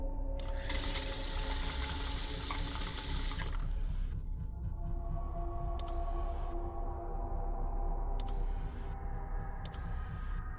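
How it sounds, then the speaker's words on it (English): Faucet running in the video game Neofeud, a loud steady rush of water that cuts off after a few seconds, followed by quieter ambient hum with brief faint clicks. "Turn on the faucet if I want water."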